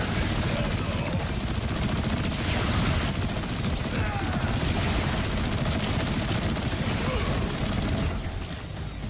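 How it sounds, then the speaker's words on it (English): Rockets fire and explode in a dense, continuous barrage during a boss fight in the video game Borderlands 4, with rapid gunfire mixed into a steady, loud wall of noise. "There's so many rockets!"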